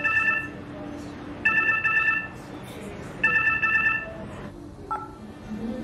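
A mobile phone rings at a funeral in three repeated bursts of a bright electronic ringtone, loud and close, over low background murmur.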